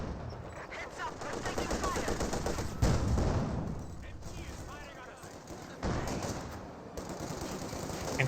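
MG42 machine gun fire rattles in a Company of Heroes 2 battle, rapid bursts amid other gunfire and explosions in a dense, continuous wartime game soundscape.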